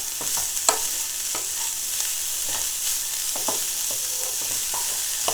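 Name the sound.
radish and carrots sizzling in a pan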